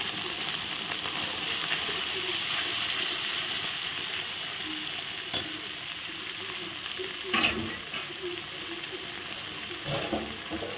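Ground red chilli, Kashmiri chilli and coriander powder fry in a pan for a green banana kofta curry, giving a low steady sizzle with occasional scraping stir strokes and a couple of louder clatters.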